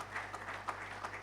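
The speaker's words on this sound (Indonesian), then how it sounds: "mari berikan tepuk tangan" A church congregation gives a short round of applause during an online Sunday service, a soft patter of scattered claps at modest volume over a low steady hum.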